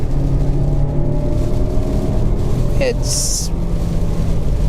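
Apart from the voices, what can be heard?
Lexus NX 200t turbo engine sound while driving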